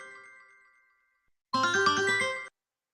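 A correct-answer chime effect: a soft fading tone first, then after a brief silence a bright, loud one-second burst of tinkling, ringing notes that stops abruptly.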